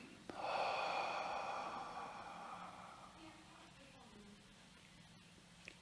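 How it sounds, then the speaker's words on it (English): A deep inhale and exhale taken during a guided breathing and mantra session, one long soft breath swelling near the start and fading gradually over several seconds, heard alone without talk. "we take a deep breath in"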